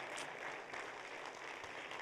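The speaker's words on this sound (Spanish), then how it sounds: "Dele un aplauso al Señor, que murió por nosotros y dio su vida para salvarnos." A church congregation applauds during a Spanish-language sermon, a faint, distant, steady patter of many hands clapping.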